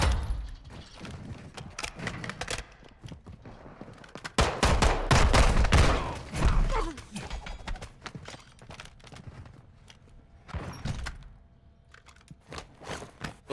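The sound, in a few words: sniper gunfire in video game Call of Duty DMZ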